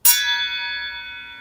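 A table saw blade without anti-vibration cuts is struck with a metal object, giving one sharp metallic hit that rings on like a bell, its clear tones sustaining and slowly fading.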